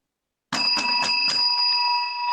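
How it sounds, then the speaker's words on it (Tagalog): A handheld bell rung by a presenter during a talk on pandemic stress, struck about four times in quick succession, then left to ring out with a long, clear, steady tone. Close and loud, with no speech. "Kapag narinig niyo po yung bell na yan"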